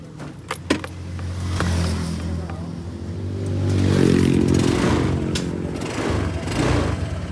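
A Honda Click scooter that starts but then stalls is revved in a repair shop; the engine hum swells and falls back, with a few jangly metallic clinks near the start and no speech.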